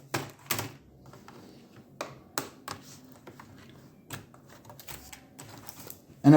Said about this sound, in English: And out comes the keyboard.